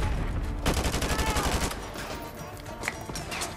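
Rapid bursts of automatic gunfire from a Modern Warfare 2 Remastered campaign battle, loud and dense in the first half, then scattered shots and explosions continuing at a lower level.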